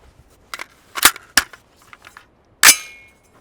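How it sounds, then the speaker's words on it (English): A rifle shot fired while testing a budget scope, a sharp loud crack near the end after a few quieter knocks and handling sounds, with a short ringing decay. "So we're gonna shoot this real quick."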